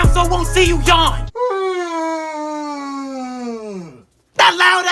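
A loud, drawn-out human yawn, a long groaning tone sliding downward for about three seconds before trailing off, set between bursts of excited talk.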